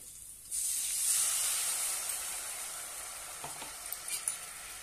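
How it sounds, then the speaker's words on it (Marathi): Ground peanut paste sautés in a pan for a fasting-style peanut amti, giving a steady close sizzling hiss that starts abruptly and continues with light stirring scrapes near the end. "छानपैकी परतून घेऊया"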